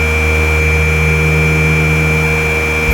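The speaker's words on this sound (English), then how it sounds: "sometimes sound effects would glitch to the point where it's ear piercing" A glitched sound effect from a Sonic 3 prototype build drones as a harsh, steady buzzing tone with sustained pitched layers. It stays loud and unbroken throughout, with no voices.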